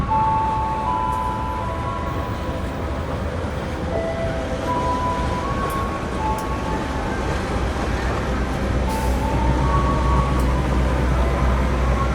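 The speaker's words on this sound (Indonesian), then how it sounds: "ini dia kereta api Logawa masuk stasiun Leces" A Logawa passenger train hauled by a white-and-blue CC203 locomotive rolls into Leces station, a loud, steady rumble with faint high squealing tones drifting over it throughout.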